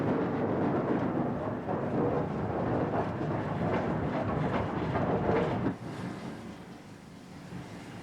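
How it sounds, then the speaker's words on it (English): Two steam locomotives working together to haul a train up a gradient into a yard, a dense, loud, steady roar of exhaust and machinery that drops to a quieter rumble near the end. "The combined efforts of the two locomotives get the train up the gradient and into the yard"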